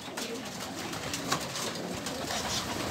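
Pigeons coo softly and repeatedly at close range, blending into a steady outdoor background with no one speaking.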